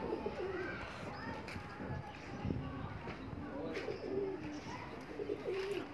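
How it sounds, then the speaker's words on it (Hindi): Several pigeons coo softly and repeatedly while being fed grain on a rooftop, a low rolling cooing at moderate distance, with faint voices and light movement in the background. "कबूतरों को दाना डालने लगे हैं"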